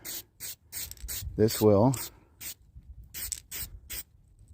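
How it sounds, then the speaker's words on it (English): A spray paint can applying a white coat to a hard-bait crankbait lure: a series of short, close, hissing spray bursts in an irregular rhythm, with a brief spoken phrase partway through. "Go ahead and spray on another coat of white."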